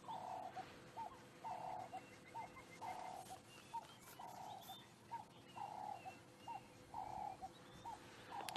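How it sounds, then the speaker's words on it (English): A turtle dove calls faintly in the distance at sunrise in the Sabi Sand bush, repeating its soft purring coo in a steady rhythm over a quiet background. "You can hear the turtle dove now calling in the distance."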